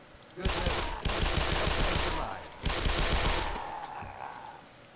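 Gunfire in the video game Black Mesa: two sustained bursts of rapid automatic fire, loud and close, with a brief pause between them.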